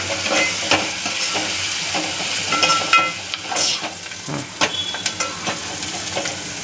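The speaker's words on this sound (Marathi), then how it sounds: "कांदा आपल्याला छान छानपैकी भाजून घ्यायचा कलर येईपर्यंत भाजून घ्यायचा" Onions frying in a pan for mutton curry, with a steady close sizzle and repeated scraping and stirring strokes of a spatula, no voices.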